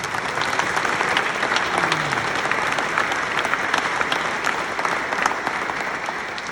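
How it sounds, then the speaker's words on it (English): An audience applauds band members at a brass ensemble concert in Minnesota, dense sustained clapping filling the whole stretch at an even, loud level, with faint crowd murmur. "I think they deserve another round of applause"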